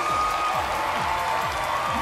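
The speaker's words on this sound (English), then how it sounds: "Listen to this crowd." A wrestling crowd at a Women Of Wrestling match cheering and applauding for Chantilly Chella and Randi Rah Rah, a dense continuous roar filling the arena with rhythmic thumping underneath.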